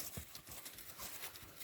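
Soft, irregular hoof clops of a calm six-year-old mare stepping nearby, quiet and muffled against a faint background hiss.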